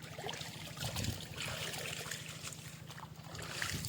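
Irrigation water flows steadily into the furrows of a brinjal field, a continuous gurgling trickle with a low hum running beneath it throughout.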